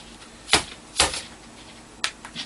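A mason jar of couscous is tapped down on a surface, giving three sharp, close knocks spaced irregularly, with quiet background between them.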